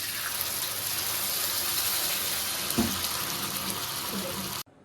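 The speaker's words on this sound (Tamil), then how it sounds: "இந்த தாளிப்போட நம்ம அரைச்சி வச்சிருக்க இந்த சட்னியை சேர்த்துக்கலாம்." Ground tomato chutney poured into a hot tempering of oil with curry leaves, a continuous loud sizzle and gushing hiss with a brief thump midway, ending abruptly.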